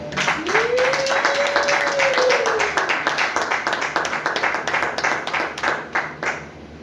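A church congregation claps together in praise of the Lord, a steady run of many hands that grows sharper and more rhythmic toward the end, with a sung or spoken voice gliding over the start.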